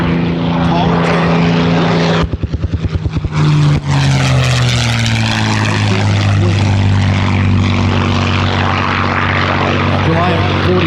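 A North American P-51 Mustang warbird roars past at an airshow, its loud propeller engine drone sliding down in pitch as it passes close and then recedes.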